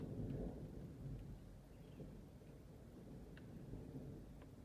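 Distant thunder rolling over Surabaya under dark storm clouds, a low steady rumble with faint rain texture that eases slightly after the first second, no speech.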